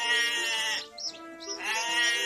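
A goat bleats in a long, wavering, nasal cry that breaks briefly in the middle and then resumes, close and clear with no voices.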